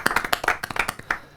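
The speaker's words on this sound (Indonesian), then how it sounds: "boleh dong tepuk tangannya nih" A small studio audience gives a brief round of clapping on an Indonesian talk show, with distinct claps in an uneven rhythm that fades out within about a second and a half.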